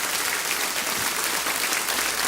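A church congregation claps loudly and steadily at a worship service, a dense, continuous wash of applause that fills the whole moment without any voices breaking through.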